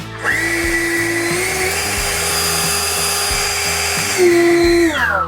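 A SENIX 60V brushless cordless leaf blower whirs loudly and steadily, its motor pitch stepping up and then winding down at the end as the throttle clicks into cruise mode and the speed changes.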